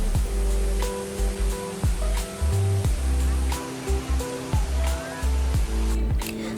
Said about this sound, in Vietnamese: Thác nước đổ xuống rất mạnh tạo nên lớp sương phả vào mặt cho những ai mà đứng gần